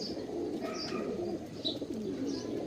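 Birds in a backyard aviary with chicken wire call softly, with low repeated cooing mixed with a few high chirps, close and moderately faint over a steady background hum, with no talk.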